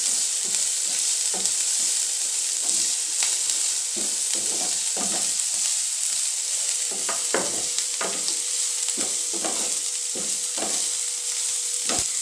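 Onions being stir-fried in a pan for street-cart style hakka noodles: a steady loud sizzle runs throughout, broken by irregular scraping strokes of the spatula, with no talking.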